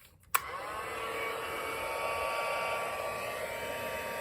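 A heat tool switches on with a click and then blows a steady, even whoosh over ink splatters on an artist trading card, holding at moderate volume throughout.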